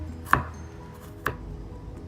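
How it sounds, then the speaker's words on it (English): Two sharp knife strikes on a cutting board while chopping garlic, about a second apart, close by with a quiet background between them. "Once you're done chopping, this is how fine you want the garlic to look."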